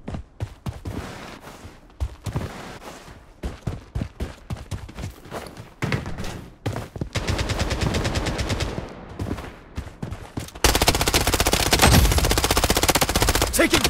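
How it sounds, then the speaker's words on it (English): Gunfire in the Blood Strike first-person shooter, with scattered single shots giving way to sustained machine-gun bursts that grow louder and denser, loud and up close. "Taking fire!"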